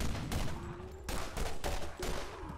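Shots crack out in the video game Borderlands, several loud sharp bursts spaced irregularly among lingering combat noise, close and punchy.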